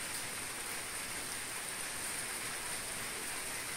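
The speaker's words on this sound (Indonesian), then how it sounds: "hari ini turun hujan agak besar tadi" Heavy rain falls steadily in a dense, even hiss that stays loud and unbroken throughout, with no voices over it.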